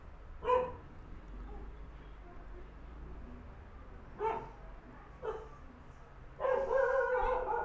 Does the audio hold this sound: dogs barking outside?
yes